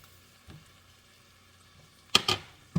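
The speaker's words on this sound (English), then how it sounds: "now I'm going to add all those spices" Spices tipped into a hot pan for white chicken chili give short, crisp sizzling hisses, two bursts close together and another at the end, over a quiet kitchen background.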